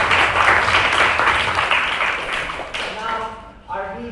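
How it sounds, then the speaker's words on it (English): Audience applause for the University of Vienna at an Austrian integration bee math competition finals, a dense sustained clapping wash that fades toward the end as a voice begins speaking. "So please round of applause to the University of Vienna."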